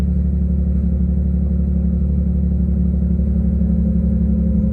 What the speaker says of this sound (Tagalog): medyo painitin natin ng konti tingnan natin yung tambutso bagong tambutso